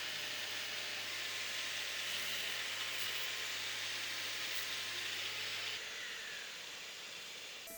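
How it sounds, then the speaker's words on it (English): A finish sander runs on the edges of a live-edge wooden coffee table, giving a continuous, even whirring hiss that holds steady close by and eases slightly toward the end, with no voices. "And then finishing the edges with more of a sander."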